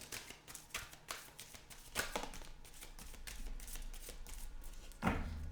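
A handful of oracle cards being shuffled makes soft, repeated riffling flicks and taps close by, quiet and without speech.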